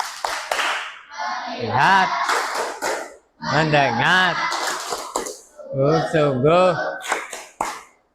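Students in a classroom perform a rhythmic focus clap. Groups of sharp claps are set between chanted words spoken in unison, in several repeated rounds.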